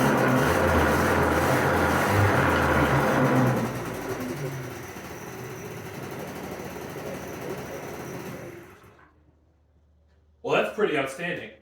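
An old, long-neglected scooter engine runs loud and rough with rising and falling throttle blips, then fades out and cuts off, followed by a short burst of talk.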